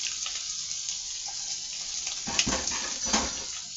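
Water pours steadily into a cooking pot in a home kitchen, a continuous rushing splash with a couple of sharper surges near the end, close and alone.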